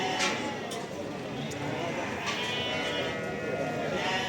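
Sheep and lambs bleat at the Barda sheep market, with several short cries from animals nearby and farther off scattered over a busy outdoor murmur of crowd noise and voices.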